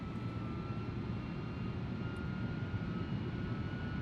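Engines of a heavy airliner, about 253,000 pounds, on landing approach in a flight simulator game: a steady, loud, unbroken drone with a faint high whine, no voices.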